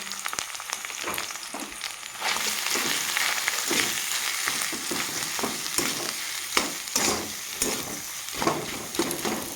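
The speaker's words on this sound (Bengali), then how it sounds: "তো ভালোভাবে আমি আলুটাকে মশলার সাথে ভাজা ভাজা করে নেব" Boiled potato frying in a pan with salt, turmeric, cumin, coriander and chilli powder, a steady close sizzle broken by repeated scraping stirs of a spatula.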